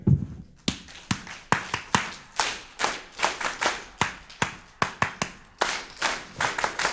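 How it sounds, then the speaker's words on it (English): An audience claps in unison following a percussion leader, producing sharp, rhythmic bursts of many hands in quick groups with short pauses between them. "Clap after me."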